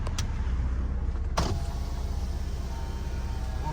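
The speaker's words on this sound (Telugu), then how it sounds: "ఇదిగోండి అడ్జస్టబుల్ మిర్రర్స్, అడ్జస్టబుల్ క్లోజింగ్ కూడా ఉందండి" Electric side mirrors on a Suzuki Ertiga VDI whir steadily as they motor, with a brief click near the middle; the hum is close, mechanical and constant, with no talking.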